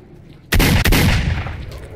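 A sudden loud burst of gunfire in S.T.A.L.K.E.R., a couple of sharp close shots right after a quiet stretch, then a reverberant tail fading out over the next second.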